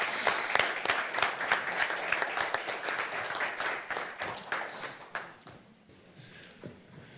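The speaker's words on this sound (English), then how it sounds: "please join me for a little applause for Mark and Ingerid" A live audience applauds after an academic talk on Russia, steady dense clapping from many hands that gradually thins and fades out toward the end.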